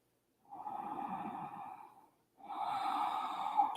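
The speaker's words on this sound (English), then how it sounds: "Go ahead and take 3 slow, deep breaths here." During a seated yoga stretch, slow, deep breaths are drawn audibly through the nose and mouth, with one long breath, a short pause, then another, close and soft with no talking.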